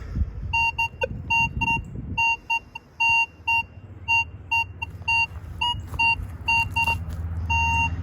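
A metal detector repeats a steady electronic beep tone over a buried target in the dirt, sounding in a regular on-off pattern with some scraping and handling noise underneath and no talking.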